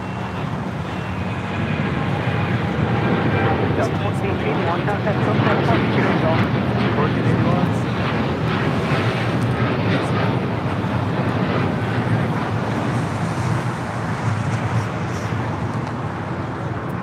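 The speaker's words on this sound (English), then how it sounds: "Japan Airlines, the Dreamliner, now rolling it down" A Japan Airlines Boeing 787 Dreamliner rolls down runway 25 Right at LAX on its takeoff run, a loud, steady broadband jet roar that holds throughout, with wind buffeting the microphone and a voice talking over it.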